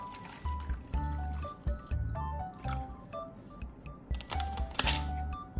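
Water pours into a cup in repeated short trickles and drips, with gurgling fill sounds stopping and starting throughout, close and fairly quiet with no talk.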